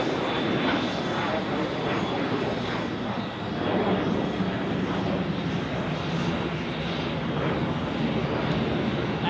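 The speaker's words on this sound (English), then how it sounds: "And here we have another Edelweiss A340" An Edelweiss Airbus A340 airliner departs Zurich airport, seen from an observation deck, a loud steady jet engine roar that holds evenly throughout, with faint talk beneath it.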